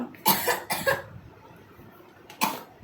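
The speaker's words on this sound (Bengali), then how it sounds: "এই যে তুই কাশছিস ইচ্ছা করে, তাই তো?" Three short bursts of coughing, two close together then one after a pause, fairly close in a quiet room.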